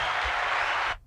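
Applause sound effect triggered from a soundboard: a dense, steady burst of clapping held at even loudness for about a second, then cut off abruptly into near silence.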